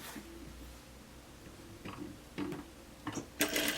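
A sewing machine stitches along the turned-under edge of a blouse sewn from the inside, giving faint, quick mechanical ticking in short runs over a low hum, growing slightly louder toward the end.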